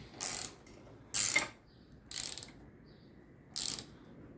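Ratchet wrench loosening the upper handlebar riser bolt on a 2019 Harley-Davidson Heritage Softail, four short bursts of close clicking separated by pauses, alone with no talk.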